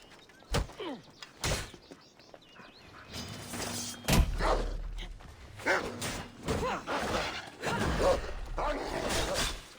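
A dog barks in short, irregular bursts close by. Mechanical knocks and rattles come and go between the barks, and someone talks in the background.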